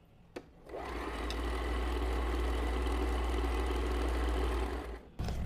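An Usha Janome Stitch Magic sewing machine stitching steadily, a continuous close motor whir with rapid needle clatter starting abruptly and running about four seconds before stopping.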